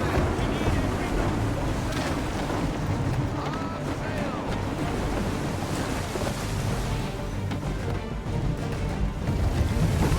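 A sailing ship moves over ocean waves in Assassin's Creed 3, with a steady, dense wash of surf and wind roaring continuously at close range.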